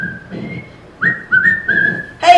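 A person whistles a bright, wavering tune in several short phrases, fairly close and clear, with low background murmur underneath.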